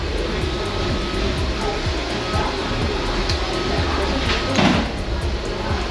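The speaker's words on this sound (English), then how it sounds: "What's a Lego vacuum engine do? Makes the piston spin." A homemade Lego vacuum engine with a spinning piston runs up close, giving a steady whirring, airy hum laced with rapid faint ticking that stays even throughout.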